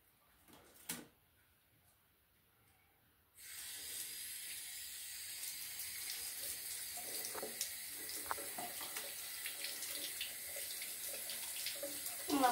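A tap runs to rinse a hamster. After a brief clunk and near-silence, water suddenly gushes in a steady close hiss, splashing faintly and continuing to the end.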